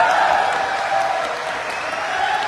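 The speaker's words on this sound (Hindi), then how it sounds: "एक बार तालियां।" Steady applause from a crowd at a business plan presentation fills the whole stretch, a dense wash of clapping that holds at an even, fairly loud level throughout.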